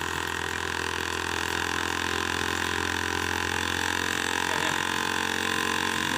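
Laboratory mixer running at 100 rpm during microbiology media preparation, a steady loud motor hum and whine that stays constant throughout, close and alone.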